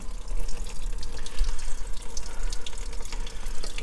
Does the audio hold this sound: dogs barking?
no